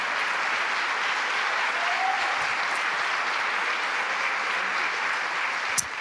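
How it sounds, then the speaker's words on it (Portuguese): Church congregation applauding during a sermon, a steady, dense wash of many hands clapping that holds evenly throughout with no talk over it. "Será que a gente pode aplaudir o Senhor por essa verdade?"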